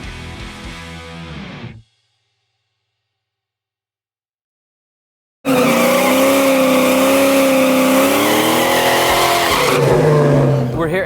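A big-bore nitrous Sportster 883 motorcycle engine that is firing unevenly. A loud burst cuts off into silence, then the engine roars back for a sustained run with a wavering, throbbing pitch.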